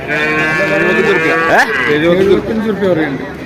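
Water buffaloes at a cattle market give long, loud, drawn-out calls close by, with people talking amid the crowd noise.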